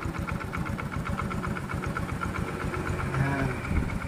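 Car engine idling after a magic washer treatment meant to cure a knocking, clattering motor, a steady rapid mechanical ticking and pulsing throb close by, even and continuous throughout.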